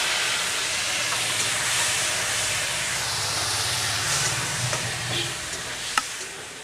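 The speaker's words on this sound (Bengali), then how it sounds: "সাদা তেলে আমি পনিরটাকে ভাজবো" Paneer frying in white oil gives a faint, steady hiss and gentle sizzle that runs evenly throughout, with a soft low hum underneath and one brief click near the end.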